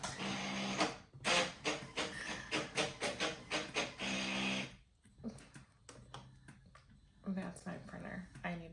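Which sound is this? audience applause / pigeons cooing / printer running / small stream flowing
printer running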